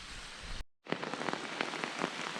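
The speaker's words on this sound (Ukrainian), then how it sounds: "Дощ не переходить." Rain falls steadily in a forest during porcini mushroom picking, a close, even hiss of drops with brief pattering peaks, interrupted by a short gap of near silence early on.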